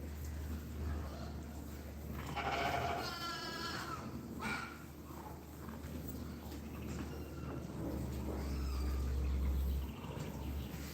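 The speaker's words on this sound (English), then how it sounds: "This sheep is giving birth right now." A ewe bleats while giving birth during lambing, with strained, wavering cries around the middle and a few lower calls later, set against steady barn hum and low background noise.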